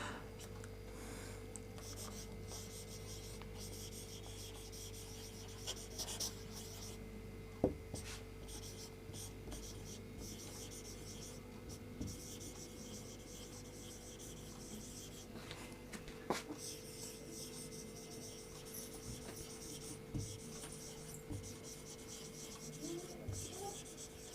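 Chalk or pen writing on a board during a physics lesson, a faint, steady scratching with brief taps and strokes running continuously and quietly in the background.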